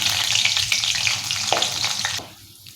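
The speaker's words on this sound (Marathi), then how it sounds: "आता ही मिरची याच्यामध्ये तळून घेत आहे" Cut green chillies frying in hot oil for sabudana chivda, a loud close sizzle and crackle that drops suddenly near the end, no talking.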